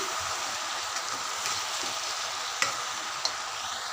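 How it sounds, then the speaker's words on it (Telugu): Ivy gourd pieces stirred as they fry in a pan, a steady close sizzle with soft scraping and a couple of sharp clicks from the utensil, no voices. "మధ్య మధ్యలో కలుపుకోవాలి"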